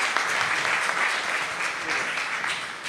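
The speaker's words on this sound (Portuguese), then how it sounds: "Outra salva de palmas" A church congregation applauds steadily, a dense, close wash of many hands clapping that carries on without a break for the whole stretch.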